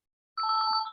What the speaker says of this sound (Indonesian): Mohon maaf ya, bentar ya saya angkat telepon